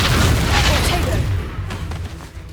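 A Confringo blasting spell goes off during a Hogwarts Legacy duel, a dense, booming explosive roar that rumbles strongly at first and then fades into crackling remnants over a couple of seconds.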